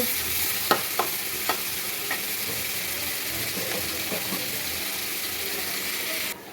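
Garam masala, salt, turmeric, chili and ground ginger-garlic paste frying in a pan for a thick bhuna curry, with a steady broadband sizzle and a few sharp clicks of a spoon stirring against the pan.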